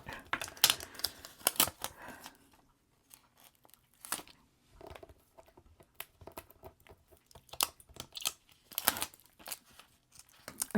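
A Cricut paper craft piece is burnished front and back with a tool, giving quick dry scraping and rubbing strokes in irregular bursts, close and fairly crisp, with short pauses between passes.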